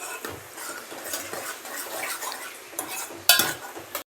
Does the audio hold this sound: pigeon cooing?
no